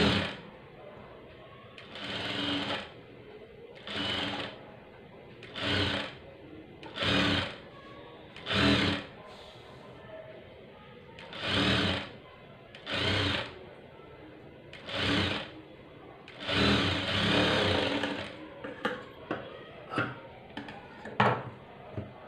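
A sewing machine stitches piping for a saree in repeated short bursts of whirring, each lasting about a second with pauses between, ending in a few quicker, lighter clicks and runs.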